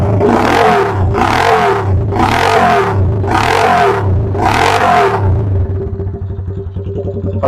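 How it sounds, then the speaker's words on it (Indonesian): Honda Supra chopper motorcycle exhaust revved five times in a steady rhythm, each blip rising and falling over a loud close idle, then settling into a rough, uneven idle alone. "biar kamu bisa dengar jelas suara dari knalpot ini."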